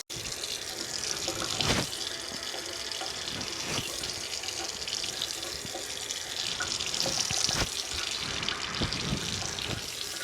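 Water runs steadily from a tap into a sink while a face is rinsed, a constant close splashing flow with occasional louder splashes and knocks.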